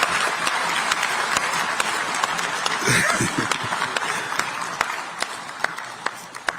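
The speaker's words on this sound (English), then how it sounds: "loud applause." Loud applause from the audience at a Zambia–Zimbabwe bi-national commission session, with dense steady clapping throughout and a few sharper individual claps standing out near the end.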